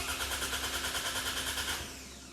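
Boosted Toyota RAV4 engine cranking on the starter, a fast rhythmic pulsing whirr with steady compression beats that cuts off near the end, fairly close and with no talking.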